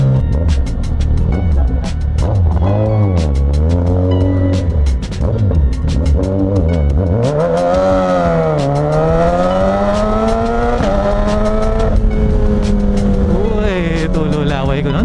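Suzuki GSX-S1000 big bike engine roars loudly and close, rising and falling through several revs with a steady rumbling throb, while people talk nearby.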